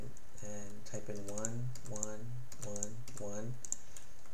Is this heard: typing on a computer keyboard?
yes